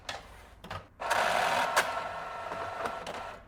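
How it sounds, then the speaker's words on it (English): An Epson printer printing shipping labels and jamming, a rapid mechanical whirring and chattering with a few sharp clicks, fairly quiet and running steadily after a brief start-stop. "Printer jam."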